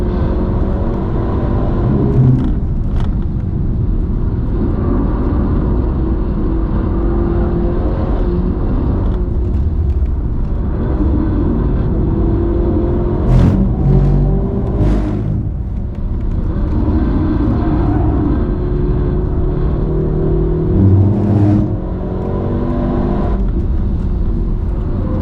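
A new Mercedes C63 AMG is driven on the Nürburgring. Its engine makes a loud, continuous drone inside the cabin with heavy road rumble, and the pitch shifts faintly as the car accelerates and slows. No one speaks.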